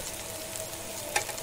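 Ginger and garlic frying in a pan, a steady close sizzle and crackle with a brief stir or scrape near the end, no talk.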